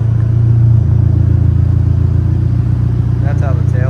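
Nissan 180SX engine idling and revving up close, a steady low rumble with slight rises in pitch, continuous through the whole stretch.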